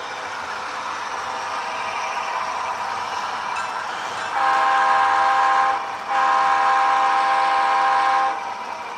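A model freight train runs steadily along the track, a continuous rolling rumble with a high whistle-like tone sounding twice in the second half, close and fairly loud, with no talking.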